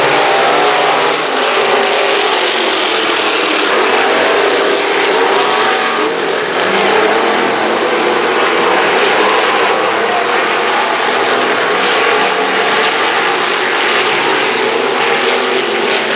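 Factory stock cars roar in a dense, continuous engine drone at the start of a six-lap heat race on an oval track, steady and loud throughout with no break in the pack noise.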